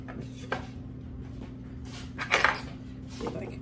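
A knife and fork clink against a pan while oven roast beef cooked in foil is cut up, with a few sharp scrapes and taps over a steady low hum.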